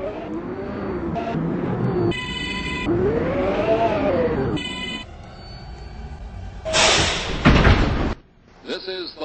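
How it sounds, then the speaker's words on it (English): In Transit City 2, an R142A subway train's synthesized chime rings out between stretches of spoken announcements, followed by a burst of whooshing noise and a heavy thud as doors slide shut. "Stand clear of the closing doors, please."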